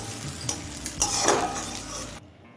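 Fried onions, browned until light red in mustard oil for a red spinach bhorta, stirred and scraped out of the pan into a bowl, with a steady sizzle and clinking spoon-scrapes that stop abruptly near the end.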